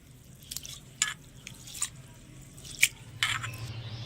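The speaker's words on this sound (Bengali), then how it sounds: "এই জলটা দিয়ে সাবুদানাটা একটু ভালো করে ধুয়ে নেব" Sago pearls are washed by hand in a bowl of water, with scattered soft splashes, drips and squelchy swishes heard close and quietly, no speech.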